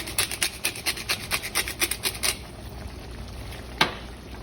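Fresh black pepper cracked from a grinder over a brunch skillet, a quick run of rhythmic raspy grinding twists, close and quiet, followed by stillness and a single soft clink.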